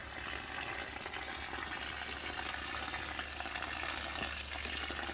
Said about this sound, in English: So while that drains,